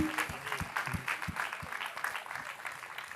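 Quiet room applause from a small gathering of property investors, scattered claps and a soft crowd wash, with faint tonal background murmur underneath.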